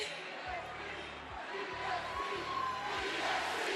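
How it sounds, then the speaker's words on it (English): Crowd at a WWE SmackDown wrestling arena cheering and chanting in a steady, rhythmic roar that fills the clip, with a voice talking over it. "Listen to the crowd."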